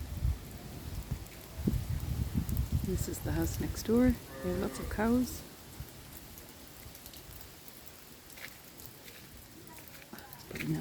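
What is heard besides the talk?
rain falling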